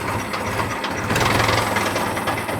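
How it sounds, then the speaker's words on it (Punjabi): An Indofarm tractor engine idles steadily nearby, a low rumbling chug with rattling mechanical noise, no voices over it. "ਚਲਾਈ ਚਲੂ ਇਹਦਾ ਆਵਾਜ਼ ਚੈੱਕ ਕਰਾਉਣੇ ਤੁਹਾਨੂੰ"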